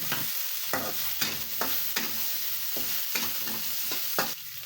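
Onion sautéing in hot oil in a pan after the garlic, a steady close sizzle broken by regular scraping stirs from a utensil about every half second, with no talking.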